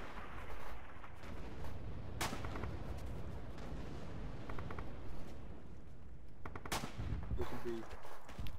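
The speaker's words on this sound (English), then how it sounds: "artillery is coming in, boys" Artillery fire in the Red Orchestra 2 World War II shooter during a bridge defence battle: booming shell blasts and crackling gunfire break out repeatedly over a constant rumbling backdrop of combat.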